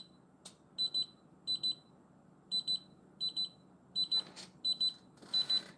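A fingerprint lock device sounds its alarm after too many wrong attempts: repeated pairs of high electronic beeps in a steady rhythm, close and clear, with faint room noise between them.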